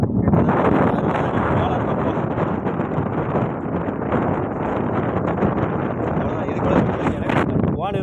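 Strong wind buffets the microphone at Manimuthar dam, a loud, continuous roar with gusty rustling that holds steady throughout, with faint talk beneath it.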